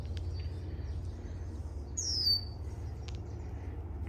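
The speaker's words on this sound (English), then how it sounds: "we can hear red-winged blackbird" A red-winged blackbird calls once from a tree at a small wetland viewing area beside a rural bicycle trail, a brief bright note rising out of steady low background rumble.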